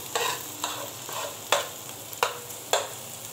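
Onion frying in a pan while being stirred, a steady close sizzle broken by several sharp scraping stirs, no talking.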